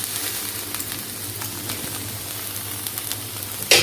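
Chirer polau, flattened rice, being stirred in a frying pan, a steady soft sizzle with faint scraping stirs throughout and a sharper clink of the utensil near the end, no voices.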